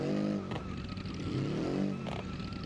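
A car engine strains and revs while struggling to climb a slope in the BeamNG.drive driving game, its tone rising and falling in loud sustained surges with brief sharp bursts.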